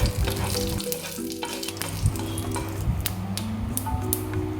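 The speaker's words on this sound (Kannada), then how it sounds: "2 ಗರಿ ಕರಿಬೇವಿನ ಸೊಪ್ಪು ಹಾಕಿ ಒಂದು ಸಲ ಮಡಚಿ" Curry leaves crackle in hot oil with mustard seeds, cumin and lentils in a pan, a dense sizzle with a few clinking stirs and a low steady hum underneath, close up and without voices.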